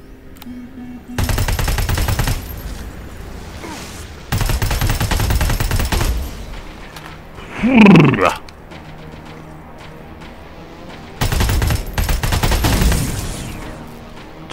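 Rapid automatic gunfire in Terminator Resistance rattles out in several long sustained bursts separated by quiet gaps, with a whooshing swell in the middle.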